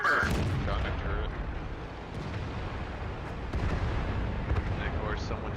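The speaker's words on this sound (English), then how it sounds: "Got hit by the artillery." Heavy, continuous artillery fire in a Strongholds tank battle, dense booming rumble and explosions filling the mix loudly, with someone talking over the barrage.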